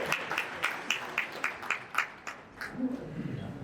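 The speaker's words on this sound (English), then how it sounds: "That requires an applause actually." A small audience at an expert technology session claps in a short, sparse burst of distinct handclaps that thins out after a few seconds, with a voice briefly starting up near the end.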